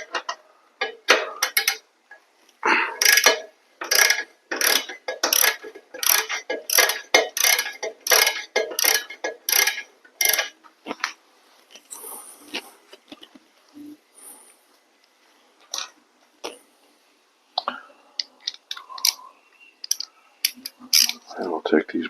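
Hand ratchet loosening the rear shock mount bolt on a Honda GL1200 motorcycle, rapid close clicking strokes in bursts with short pauses, growing sparser toward the end.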